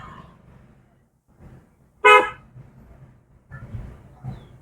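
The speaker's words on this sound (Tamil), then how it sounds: "எத்தனை முறை ஹார்ன் அடிப்பீங்க" A single short, loud car horn toot cuts through quiet engine rumble, close by, during a driving lesson.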